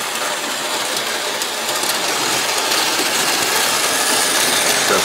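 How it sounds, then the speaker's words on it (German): A Märklin H0 model railway train runs on a layout, producing a steady, continuous rumbling whir that stays loud and even throughout, with no voices. "wenn die Modellbahn fährt"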